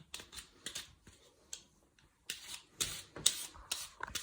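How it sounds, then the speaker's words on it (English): Close, quiet scraping strokes of a peeler working round a potato for a roast gammon dinner, coming in short irregular bursts with brief pauses between them and no talking. "keep going round, peeling the potato."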